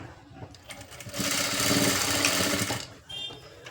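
A sewing machine stitches piping onto a blouse in one steady, close mechanical run of a little under two seconds, with softer handling sounds before and after.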